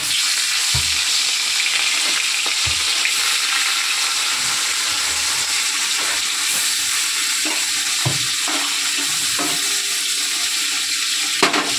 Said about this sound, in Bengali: তো বন্ধু দেখো এদিকে তেল গরম হয়ে গেছে, এটাও গরম হচ্ছে, ওর তেল কমানো আছে। তো আমি মাছটা ভেজে নিই।